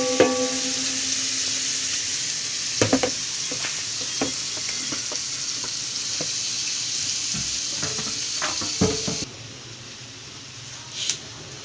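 Tofu and liver sautéing in a pan, a steady close sizzle with frequent clacks of a utensil against the pan, then the frying drops quieter after a pause with one last clatter.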